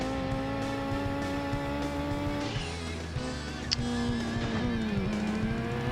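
A Ford Escort rally car racing in the Gran Turismo 2 game, with a steady loud engine drone that rises and falls as gears shift and a brief tire squeal partway through, with no talk.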